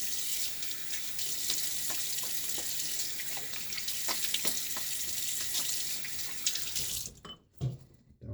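A bathroom tap runs steadily while a safety razor is rinsed under it, a broad close hiss with small splashes and clinks, before the flow cuts off near the end, leaving a few drips and knocks.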